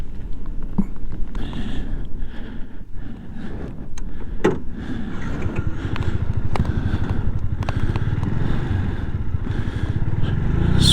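A small motorcycle rumbles along on a ride, its engine droning steadily with wind buffeting and rising slightly toward the end, close and continuous.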